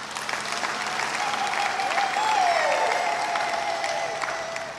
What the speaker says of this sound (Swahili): Naomba tuwapongeze kwa makofi.